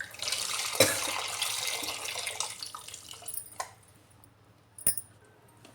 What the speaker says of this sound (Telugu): వేసి ఒకసారి మంచిగా మిక్స్ చేసేసుకొని చింతపండు పులుసు పోసుకోవాలి